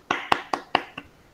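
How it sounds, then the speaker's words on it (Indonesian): A classroom of students claps for a classmate during a peer-teaching lesson, five sharp, separate claps in quick succession, close and clear with no talk over them. "Tepuk tangan untuk Adi"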